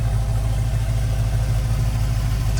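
A motorhome's LS swapped V8 idles on a custom exhaust with mufflers, giving a steady low rumble that holds even throughout, close and alone, with faint clatter.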